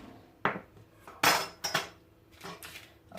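A knife slices through green apple fruit paste on a hard surface: a few sharp, crisp cuts and clicks with quiet gaps between them, close and clear with no talking.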